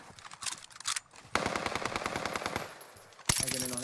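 Rapid bursts of automatic STG44 machine gun fire in the video game Warzone, a short volley, a pause, then a longer rattling string of shots and a final burst, all fairly close.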